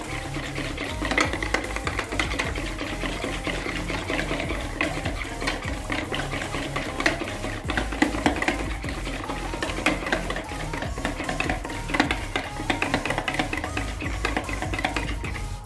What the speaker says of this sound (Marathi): आता या तेलाला आपल्याला व्यवस्थित फेटून घ्यायचं आहे।